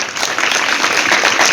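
An audience clapping in a school or classroom programme, a loud, dense burst of many hands that holds steady throughout the short stretch.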